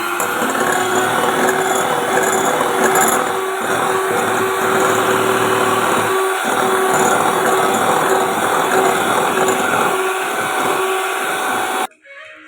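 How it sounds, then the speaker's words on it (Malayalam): Eggs and powdered sugar being whipped with an electric beater for a marble cake, a loud steady high-pitched motor whine running continuously close up, cutting off abruptly near the end, with no talking. "ഇത് നല്ലപോലെ ഒന്ന് ബീറ്റ് ചെയ്തെടുക്കാം."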